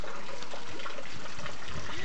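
A bear bathing and washing its feet churns the water, producing a steady, close wash of splashing and sloshing with no pauses.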